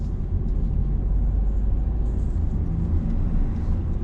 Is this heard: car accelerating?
yes